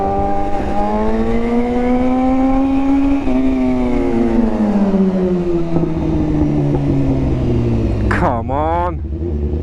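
Inline-four engine of a Kawasaki Ninja 400 motorcycle revving hard and loud, pitch climbing and sliding down over several seconds before a sharp rev blip near the end, with wind noise throughout.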